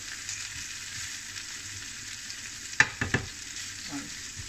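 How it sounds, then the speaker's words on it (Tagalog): Sardines stirred in a frying pan give a constant soft sizzle, with a few sharp scraping strokes close by near the end and no talking. "Ihalo na natin ang sardinas."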